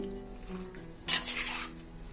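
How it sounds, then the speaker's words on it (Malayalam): Chicken being mixed by hand with crushed ginger and garlic paste for a Kerala chicken thoran, faint scraping and clinking of a utensil against a bowl, with one brief louder rustle of stirring midway. "കുറച്ച് ഇഞ്ചിയും വെളുത്തുള്ളിയും പേസ്റ്റും കൂടെ ചേർത്ത് ചതച്ചതും കൂടെ ചേർത്ത് ഇതൊന്ന് നല്ലോണം മിക്സ് ചെയ്ത്"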